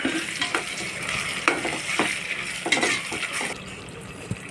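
Tomatoes sautéed with onion and ginger-garlic paste in a pan give a continuous sizzle, broken by repeated stirring scrapes and clacks at an uneven rhythm.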